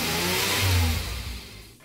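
A 1972 Chevelle SS engine at a car show gives a short, loud rev, swelling and then fading within a couple of seconds, close by with no talking.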